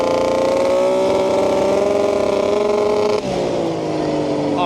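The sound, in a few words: 140HP sleeper ATV engine revving at full throttle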